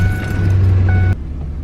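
Ford pickup truck with its check engine light on, engine running with a loud low steady rumble and whine that cuts off abruptly near the end, leaving quieter background.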